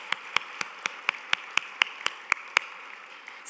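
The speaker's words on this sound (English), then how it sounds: "Let's give her a round of applause." Steady, evenly spaced hand claps at a luncheon, about four per second, crisp and fairly close, with no talking.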